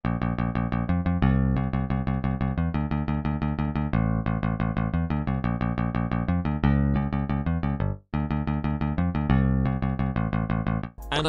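A dense, driving anime-opening-style band mix made in GarageBand, with a prominent bass line skipping and switching notes on the eighth beat in a quick, syncopated pattern; loud and continuous with a brief dropout near the end.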